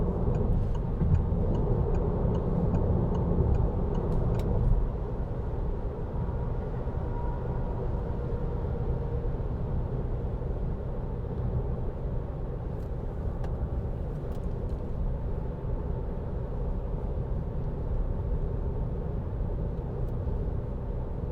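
A 2017 Citroen Grand C4 Picasso 1.6 BlueHDi holds speed on cruise control, giving a steady, even low road and engine rumble inside the cabin, with a faint ticking and no talk.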